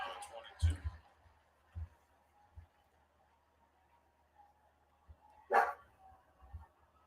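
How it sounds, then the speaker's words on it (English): A dog barks a few times at a distance, giving short sharp yaps spread across the stretch. Under them a quiet baseball play-by-play broadcast continues with a voice talking. "I don't know about my dog. He's barking at air right now."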